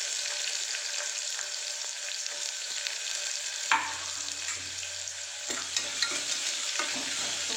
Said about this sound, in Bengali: আমি পেঁয়াজটা একটু ভাজা ভাজা মতো করে নেব।